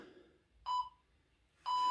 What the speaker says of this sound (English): Wait for these beeps, here they come.